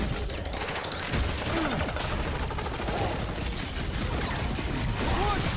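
Rocket's rapid gunfire in Marvel's Guardians of the Galaxy, a dense continuous barrage of shots mixed with chaotic combat noise and some faint voices underneath.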